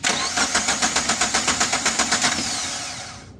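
Suzuki Carry Futura injection engine cranking on its starter, a loud, steady rhythmic churn of about fifteen even pulses that fades out without the engine catching.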